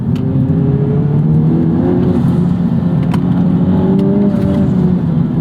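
A 2021 Honda Civic Type R Limited Edition (FK8), a front-engined, front-wheel-drive car, drives in sport mode with a loud, steady engine drone and shifting tonal whine heard from inside the cabin.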